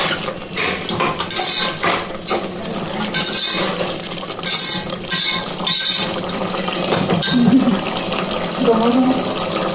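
Rice being washed by hand in water in a home kitchen, a steady loud swishing and splashing with clinks of a metal vessel, close and continuous.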